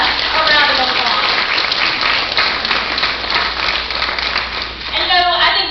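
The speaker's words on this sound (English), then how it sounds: "So let's give him a round of applause." Audience applause at a school board meeting, a steady wash of many hands clapping throughout, with faint talk over it near the end.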